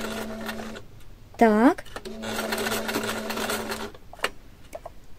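A sewing machine stitching bias binding around a fabric corner, a close whirring run with a brief high whine in the middle, as someone speaks briefly in Russian.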